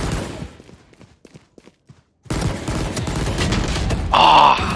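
Bursts of gunfire from the tactical shooter game Valorant, a quiet stretch of scattered shots followed by a denser, louder run of rapid firing with game effects near the end.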